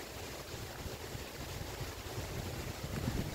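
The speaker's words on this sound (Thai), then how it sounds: "ดูลมแรงมากเลยค่ะได้ยินเสียงลมไหมคะ" Strong gusty wind roars steadily against the microphone outdoors under a mango tree as rain approaches, a dense, rushing wash that swells slightly toward the end, with no voices.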